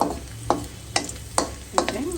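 Garlic sizzles steadily in olive oil in a pan while a utensil scrapes and stirs in four sharp, evenly spaced strokes, close by.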